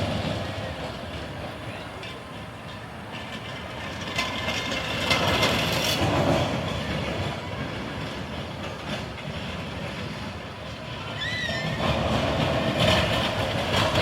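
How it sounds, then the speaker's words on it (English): Cannonball Express roller coaster at Pleasurewood Hills, a steady rumbling rattle of cars on the track with swelling loudness, a brief squeal near the end, and faint voices mixed in. "that was a really good ride on the Cannonball Express"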